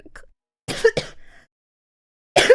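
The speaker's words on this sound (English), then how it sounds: "I know I'm gonna cough every few seconds" Harsh throat clearing and short coughs from someone who is slightly sick, a couple of close bursts separated by silence, then another at the end.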